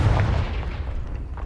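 A Confringo blasting spell exploding in a Harry Potter-style video game, a single heavy low boom that rolls and decays over a second and a half, loud and without talk.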